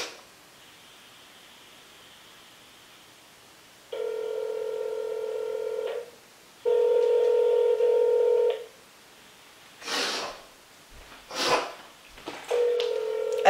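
An unanswered phone call keeps ringing: after a stretch of faint line hiss, two long electronic ring tones sound in a row, then rustling handling noise, and a third ring begins at the end.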